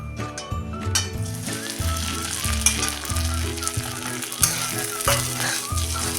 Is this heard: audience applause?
no